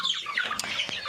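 Kuchinsky Jubilee hens and their chicks cluck and peep together in a busy, close jumble of short calls, with a few sharper squawks standing out.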